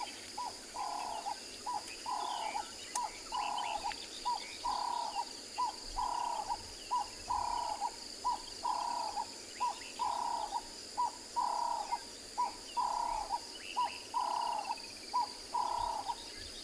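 A dove, likely a Cape turtle dove, calls at sunset on safari in the Kalahari at Tswalu, its coos repeating in a steady rhythm over faint insect and cricket chirps in the background.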